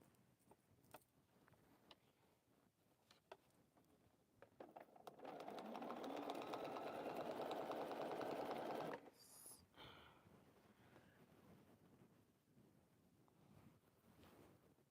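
A sewing machine stitches binding onto a T-shirt quilt in one sustained run of a few seconds, quiet and close, framed by small handling clicks and rustles before and after.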